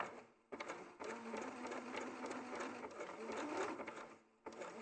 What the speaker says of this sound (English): if you just want to do it once, just do it with a big zigzag stitch